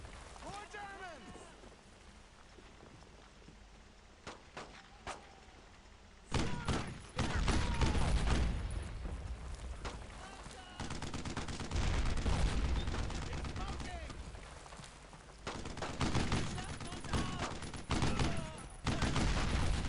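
In Brothers in Arms: Road to Hill 30, WWII gunfire starts as scattered single shots, then swells into loud, sustained bursts and heavy volleys, with voices talking throughout.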